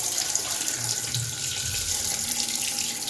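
Water runs steadily from a household tap, a continuous close hiss and splash that holds without a break.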